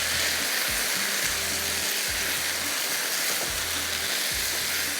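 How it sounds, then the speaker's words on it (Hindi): Minced meat and kachnar buds fry and sizzle loudly in a hot pan for a street-style yakhni, a steady dense hiss with a repeated low scraping rhythm of stirring, close and continuous with no talking. "इसमें ये डालेंगे कचनाल, इसको करते हैं अच्छी तरह से मिक्स।"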